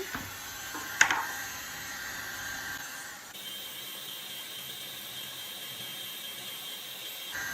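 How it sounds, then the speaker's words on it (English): A heat gun blows a steady airy whoosh, heating the end of a PVC pipe up close; a brief sharp click sounds early on, then the blower hum continues evenly alone. "grab your heat gun and heat up the end."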